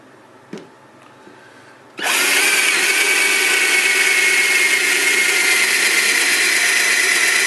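After a couple of quiet seconds and a small knock, a power drill starts up loudly and runs steadily, whining as it bores through wood into a piece of scrap wood.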